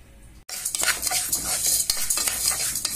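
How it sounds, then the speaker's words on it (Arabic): Lisan asfour (bird's-tongue) pasta frying in a pot until golden, with a loud sizzle that starts abruptly and continues under constant scraping and stirring close by. "هنحمر لسان العصفور لغاية ما لونه يبقى كده احمر"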